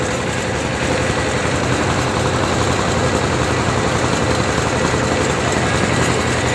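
A large passenger launch ship's engine running at the Barishal launch ghat at night, a loud, steady low rumble with constant broadband noise and no breaks.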